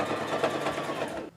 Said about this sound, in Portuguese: Vou mais uma vez a máquina passar uma costura de segurança na volta inteira